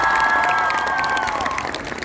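A crowd at an outdoor concert in Strzelin cheers and claps, a loud, dense wash of applause and high shouts that runs steadily throughout.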